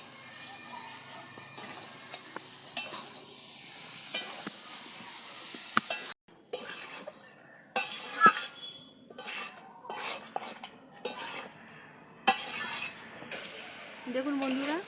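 Duck meat cooking with ginger-garlic and chilli paste in a pan, with intermittent sizzling and frying broken by repeated metal spoon scrapes and clinks against the pan, close and fairly quiet.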